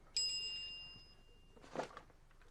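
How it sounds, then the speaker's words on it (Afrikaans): A phone chimes once with a bright, ringing ding for an incoming text message and fades out over about a second. A short murmur of voice follows. "Sy SMS van Lukie"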